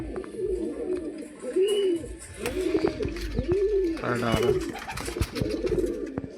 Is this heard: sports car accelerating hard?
no